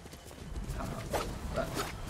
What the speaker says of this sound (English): Oh, it's the horse.